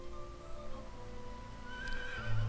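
Horses in a village-building video game whinny several times over a steady ambient bed, with a sharper, louder neigh near the end, no talking.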